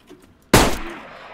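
A single sharp gunshot from the survival game DayZ cracks out loud and close, followed by a short fading echo.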